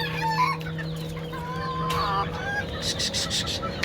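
Several chickens cluck and squawk close by, overlapping one another, with a steady low hum underneath.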